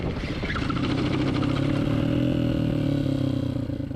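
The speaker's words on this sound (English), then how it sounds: "if we downshift and then just dump the clutch," A motorcycle engine braking hard after a downshift with the clutch dumped, giving a steady loud droning rumble with a rattling clatter running through it the whole time.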